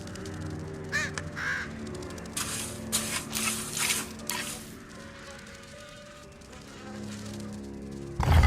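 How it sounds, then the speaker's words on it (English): Flies buzz in a swarm around dead birds in the game Lost Lands 9, a wavering insect drone with crow-like caws and bursts of rustling noise, then a low thud at the end. "Dead birds cause flies to swarm here."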